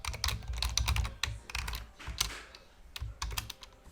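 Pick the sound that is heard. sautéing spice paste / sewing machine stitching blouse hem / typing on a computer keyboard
typing on a computer keyboard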